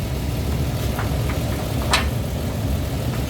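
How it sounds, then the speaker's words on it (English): A roughly 4,000 pound car idles with a steady low engine rumble while it backs out, pulled by a DIY winch setup; the hum stays even throughout, with a brief faint click partway through. "she can back out the car."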